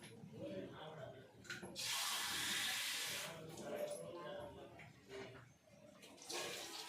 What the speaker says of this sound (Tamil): ஸோ இந்த அளவு 1 கப் வாட்டர் நான் ஆட் பண்ணுறேன்.